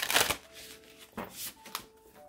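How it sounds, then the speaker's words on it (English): A deck of tarot cards is shuffled close up, with a loud riffling burst followed by softer flicks and taps of the cards, faint and without talk. "One more shuffle."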